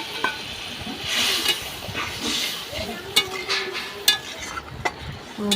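A spatula scrapes and stirs a ridge gourd curry in a pan, with soft sizzling underneath and a few sharper clinks, close by.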